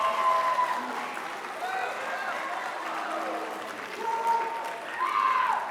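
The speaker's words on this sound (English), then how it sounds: "give a round of applause to all your classmates for all their accomplishments" Audience applause for classmates at a high school awards assembly, a steady sustained clapping from a large room with some voices and cheers mixed in, swelling slightly near the end.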